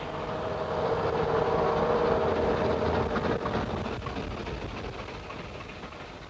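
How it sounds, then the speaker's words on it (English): Upnor Castle, an ex-Admiralty Planet-type diesel locomotive built in 1954 and re-engined with a Gardner, runs on the Festiniog Railway with a steady, heavy engine rumble and rail noise that swells as it nears and then gradually fades away. "She is the line's most powerful diesel with a tremendous turn of speed."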